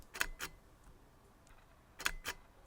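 Fujifilm GFX 100S medium format camera firing its shutter in electronic first curtain mode, two quiet pairs of crisp clicks about two seconds apart, close and soft against a quiet background.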